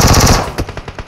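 PUBG Mobile gunfire crackles as a rapid automatic burst of close, loud shots, then a few more spaced reports trail off.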